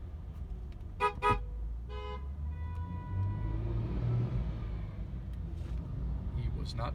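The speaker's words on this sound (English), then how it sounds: "I had to honk at that guy." Car horn honking from a moving car, two short toots and then a longer blast over engine rumble and road noise inside the cabin.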